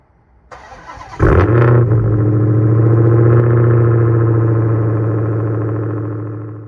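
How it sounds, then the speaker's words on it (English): A stock Dodge Hellcat V8 engine starts with a loud bark through its stock exhaust, then settles into a deep, rumbling idle that fades slightly toward the end. "This is currently what my stock Hellcat exhaust sounds like."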